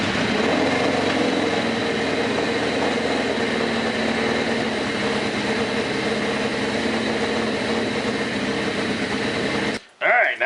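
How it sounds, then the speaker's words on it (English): A Suzuki GS850 motorcycle engine runs at a steady idle for about ten seconds, loud and close with a buzzing, even drone, then cuts out abruptly near the end. "I'm going to fire the bike up, and I'm going to try to get the cylinder head nice and hot"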